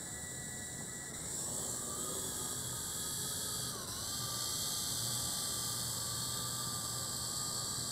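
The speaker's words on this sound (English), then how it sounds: "we're going to take to the air by giving it throttle" A JJRC H27WH small quadcopter drone's motors whine steadily, throttling up for takeoff with a faint rise in pitch, a constant hiss under a thin high tone; no talk.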